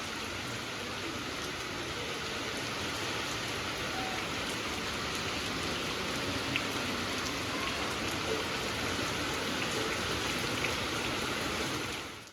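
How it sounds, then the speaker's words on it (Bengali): Heavy rain pours steadily, a broad, even wash of drops drumming on surfaces nearby, constant and unbroken with no talking. "ভীষণ জোরে বৃষ্টি নেমেছে দেখুন"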